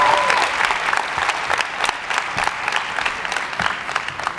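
An audience gives a loud round of applause, crisp overlapping claps with rhythmic peaks that stay strong throughout.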